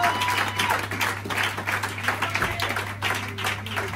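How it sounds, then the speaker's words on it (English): A church congregation claps hands together during a christening and dedication service, a steady rhythmic clatter of many hands over a low constant hum. "Clap your hands, everybody."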